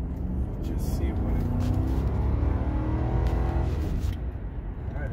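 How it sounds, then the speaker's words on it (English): A car accelerating hard while merging onto a road, with a steady loud engine drone and tire and road noise heard from inside the cabin, continuous throughout. "Accelerates well, the transmission drops, it just does it."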